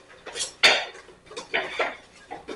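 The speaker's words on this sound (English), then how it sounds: "So now I am going to add my pasta." Dry pasta added to a pot of French chicken noodle soup on a low boil, a few close clattering and rustling knocks against the pot.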